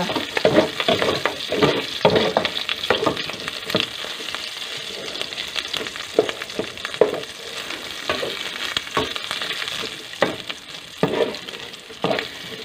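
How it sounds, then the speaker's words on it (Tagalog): Garlic sautéing in a pan for Bicol Express, a steady crackling sizzle punctuated by repeated rhythmic stirring and scraping strokes at close range, with no one speaking. "Magigisa na po tayo"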